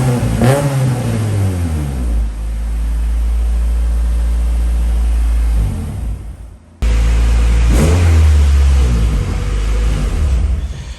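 An Acura Integra DA9 fitted with an HKS/Revel exhaust revs hard twice, its engine note climbing and falling loud and close between the two blips, with no talking.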